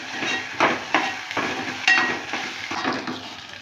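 Broad beans fry in a pan, giving a soft sizzle broken by a handful of rhythmic scraping stirs of a spoon against the pan, close up and with no speech.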